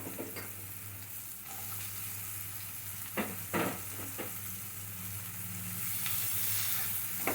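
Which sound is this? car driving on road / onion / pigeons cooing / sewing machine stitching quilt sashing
onion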